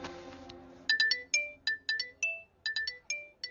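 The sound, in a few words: phone ringtone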